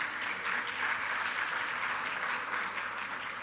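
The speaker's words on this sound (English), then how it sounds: "Give him a big round of applause." A conference audience at a chartered accountants' event in Kuwait applauds steadily at a moderate, somewhat distant level, a dense even patter with no individual voices standing out.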